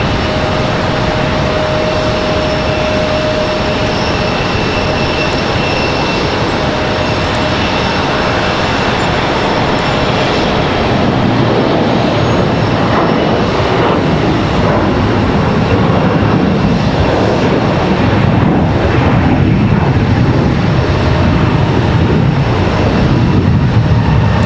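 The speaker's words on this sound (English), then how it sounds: "We got another departure here. Looks like another CRJ." A CRJ regional jet departs Charlotte Douglas airport, its broad steady engine roar building gradually and growing louder toward the end, with a thin whine held above the rumble.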